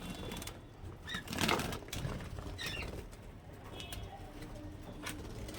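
A pet cockatiel in a home bird room flaps its wings and takes off, a burst of fluttering wingbeats at close range, with cooing and chirping birds in the background.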